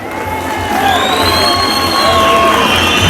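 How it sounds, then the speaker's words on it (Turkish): A crowd at a football championship trophy celebration cheers loudly and continuously for the club's technical staff, with a dense roar of voices and high whistle-like tones running through the noise. "Onlara bir alkış."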